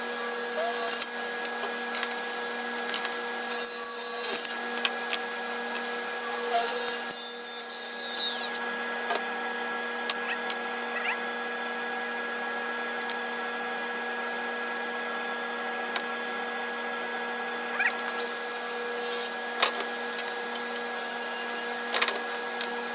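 A workshop power saw runs steadily with a loud high-pitched whine as a wood strip is fed through with a push stick. The tone drops during a quieter middle stretch and then returns at full pitch.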